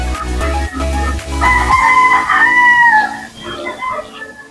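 A gamefowl rooster on a farm lets out a single loud, close crow after a few low thumping bumps, with faint farm background afterward.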